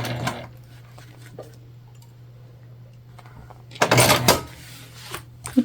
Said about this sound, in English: let's baste down the other side of our pocket here